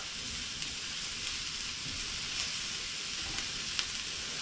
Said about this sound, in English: So these shallots on a medium heat right now.